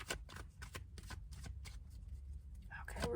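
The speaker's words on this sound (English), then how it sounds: "Okay, we're really shuffling." Tarot cards shuffled by hand close up, a quick series of crisp riffling bursts and soft card slaps at an uneven rhythm, with a person speaking quietly around them.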